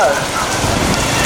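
Steady, loud rain pours down outdoors at a village bull event in Tamil Nadu, a dense continuous hiss of drops on surfaces close by, with voices faintly beneath.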